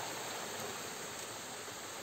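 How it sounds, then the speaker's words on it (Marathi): Water runs steadily out of a village well in the Konkan countryside, a constant broadband rush like a small stream or spillway, even and unbroken throughout, heard fairly close with no voices. "हे विहिरीतूनच पाणी बाहेर जाते."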